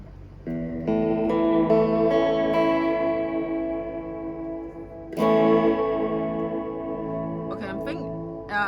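Electric guitar chords through a Fender Reflecting Pool pedal on its digital reverb setting with delay, each strum smearing into a long, echoing wash as it fades.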